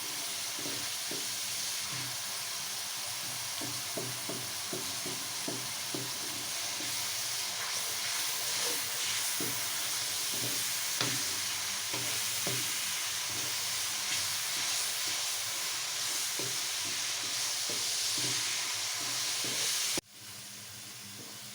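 Onions sizzling and frying in a pan for arvi masala, a steady hiss of oil with scattered crackles throughout, close and fairly loud, no talking, ending with a brief clatter.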